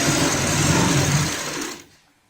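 Sewing machine stitching a fabric strip along the edge of a homemade doormat, a steady close whirring run that slows and stops near the end.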